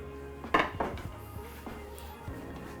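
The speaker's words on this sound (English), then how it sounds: "I'm gonna put the colander strainer right on top of here." Metal colander strainer set down on top of a big stock pot, a couple of sharp clanks and rattles close by, then a few lighter taps in a quiet kitchen.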